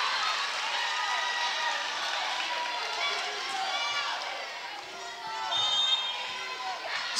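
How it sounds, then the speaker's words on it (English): High school volleyball crowd in the Fontainebleau gym cheering and clapping continuously, a broad roar of voices and shoe squeaks, swelling slightly near the end, with a commentator talking over it. "This Fontainebleau crowd riled up."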